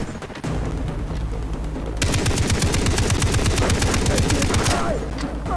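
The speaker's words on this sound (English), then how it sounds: "So we have the snipers bringing in their sniper guns." Loud, sustained gunfire from sniper rifles in the video game Far Cry 3: a dense barrage of rapid shots that grows heavier and faster partway through and keeps going without pause.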